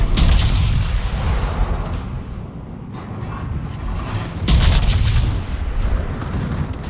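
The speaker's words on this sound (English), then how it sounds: "There's the full broadside." A battleship's full broadside roars through World of Warships gameplay, with heavy rumbling booms layered into a dense, loud wall of naval gunfire that swells again partway through.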